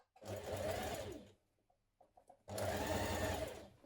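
Sewing machine stitching around the outer curved edge of a collar for a spring top, two loud bursts of steady motor whir separated by a quieter pause with faint clicks and handling sounds.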